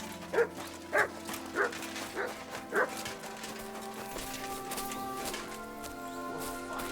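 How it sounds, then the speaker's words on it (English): Dog in the video game Kingdom Come: Deliverance 2 barking five times in a quick, evenly spaced series, fairly close and loud, then falling quiet over a low background hum. "Good dog, Mutz."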